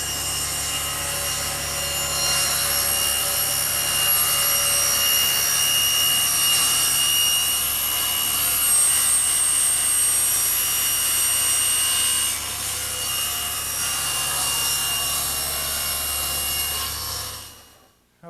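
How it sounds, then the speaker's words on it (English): A table saw cuts a slot in a wood workpiece that is slowly plunged over the blade against the fence. It gives a loud, sustained whining grind for about seventeen seconds, dips briefly midway, then spins down to silence. "Suppose there are many ways to cut this slot, but I like to use the table saw"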